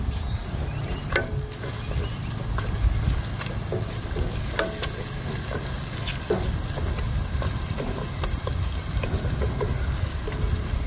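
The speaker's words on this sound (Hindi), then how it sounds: "इसको अच्छी तरह भून लेंगे," Spices and onions fry and sizzle steadily in a pan for chicken jalfrezi, with intermittent stirring clicks and scrapes over a continuous crackling hiss.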